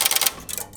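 Clicks and rapid stepping from a 1940s Strowger UAX12 automatic telephone exchange as a number is dialled, with a quick burst of clattering mechanical ticks at close range followed by a brief pause and a few more separate clicks.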